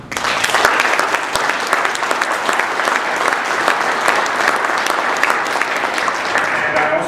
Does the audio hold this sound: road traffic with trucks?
no